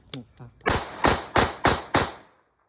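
A blank-firing pistol, also called a cap gun, is shot five times in quick succession, each crack loud and close, after a couple of softer clicks at the start.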